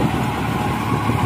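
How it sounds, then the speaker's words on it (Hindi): Close, steady mid-range engine drone of a New Holland 3510 tractor running with a 10-foot rotavator in a field, a continuous even rumble with no talk over it. "ये देखिए ट्रैक्टर भाग रहा है"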